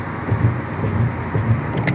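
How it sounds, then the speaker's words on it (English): Inside a moving car, a steady low road and engine rumble fills the cabin, with faint soft rattles and no talking. "driving right now"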